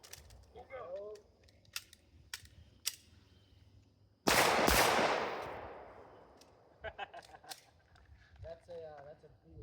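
A single sharp gunshot at an outdoor shooting range cracks loudly and rings out with a long decaying echo, with a few faint clicks and quiet talk before and after.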